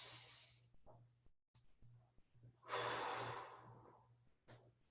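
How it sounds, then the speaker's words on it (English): A deep breath drawn during a strength and climbing exercise session, with a soft inhale and a louder, rushing exhale close to the mic, alongside lighter breathing. "One more, big breath."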